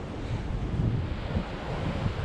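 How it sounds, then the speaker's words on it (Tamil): Sea waves wash along the shore at Kanyakumari, a continuous broad roar of surf mixed with heavy wind buffeting the microphone, steady and fairly loud with no voices. "இந்த வழியே ஃபுல்லாக சுற்றியும் கடல் தான்."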